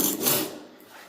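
Old tile adhesive being scraped off a floor during a house kitchen renovation: a short, close rasping scrape that fades out over about a second, with no voices.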